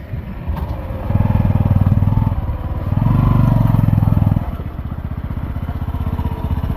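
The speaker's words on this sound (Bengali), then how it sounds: "এই যে মোটর সাইকেল পর্যন্ত হচ্ছে উঠতে পারতেছে না" A motorcycle engine chugs and strains at low revs climbing a steep hill in the hills of Khagrachhari, Bangladesh, swelling louder twice as it labors, steady and close throughout.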